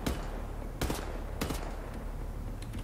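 Machine gun fire in the video game Wolfenstein: The New Order, three sharp bursts spaced about half a second apart over a low rumbling background, with no talking.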